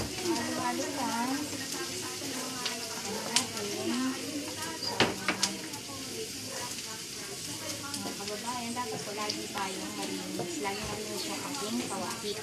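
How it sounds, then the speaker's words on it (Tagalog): Onion sautéing for ginisang sardinas, with steady close sizzling in the pan and scattered clinks and scrapes of a utensil stirring against the metal throughout. "gisa natin ang sibuyas"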